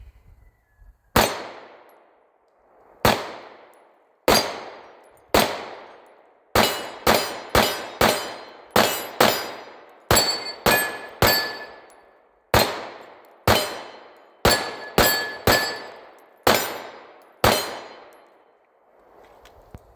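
Shots from a Bul Armory pistol loaded with Federal 124 grain HST hollow points ring off steel targets. About twenty sharp reports come close by, single shots at first and then quick strings, each followed by a metallic clang.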